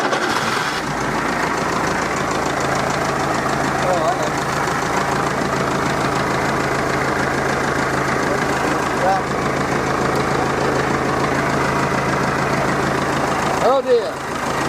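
A car engine catches after the key is turned and settles into a loud, close, steady idle with an even rumbling drone, broken only by a brief clunk near the end.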